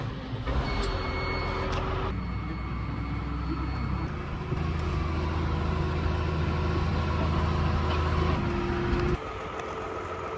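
A tractor engine drives steadily into a farm yard, its low, continuous rumble loud and close throughout, with shifts in tone as it moves and changes speed.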